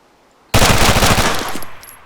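A KRISS and a Scorpion submachine gun fire in ArmA 3: one loud, sudden burst of rapid automatic shots starts abruptly and rattles on for over a second, then trails off into a fading echo.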